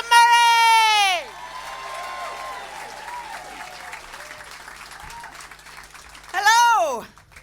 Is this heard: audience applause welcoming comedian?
yes